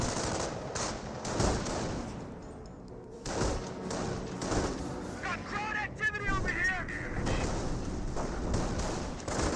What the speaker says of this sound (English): it's just the base guns shooting the aircraft flying over